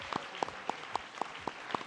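Audience applause at a televised debate, heard as a handful of separate, fairly regular claps, soft and sparse like a small group or one pair of hands.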